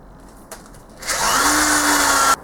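A power drill drilling into the side of a crank spins up and whines steadily for over a second, close and loud, then cuts off abruptly after a brief click.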